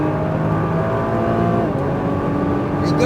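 A Nissan GT-R Premium accelerates hard on an autocross course, its engine droning loud and steady from inside the car with a rising tone and no talk.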